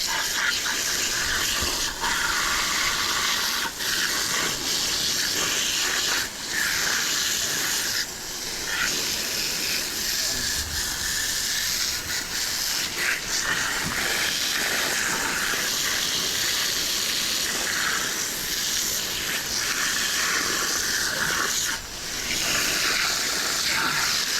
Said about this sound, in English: we're just going to hit this with the hose, get the rest of the shit out